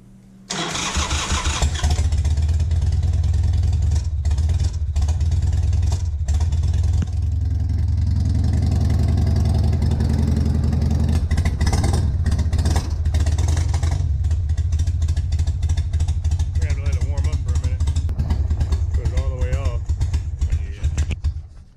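A Harley Sportster motorcycle engine runs loud and close, catching and then settling into a steady rumbling idle with throttle blips, while people talk faintly beneath it.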